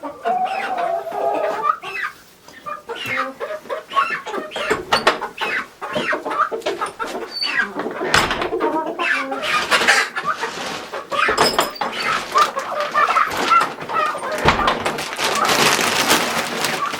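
Chickens clucking on a farm where ducks and turkeys are also kept: a close, busy flock calling and squawking continuously, with scattered clatters and rustles.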